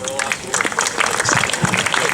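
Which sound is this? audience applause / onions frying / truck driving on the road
audience applause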